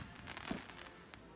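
Fireworks bursting in a night sky, heard from a screen playback near the Zaporizhzhia nuclear plant in Ukraine: a low, muffled rumble with scattered crackling pops and one sharper burst midway.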